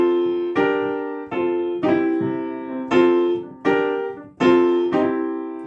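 C seventh chords played with a blues feel, about six ringing chords struck one after another, each decaying before the next, close and with no talk.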